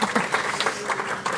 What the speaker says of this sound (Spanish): Sí, poden aplaudir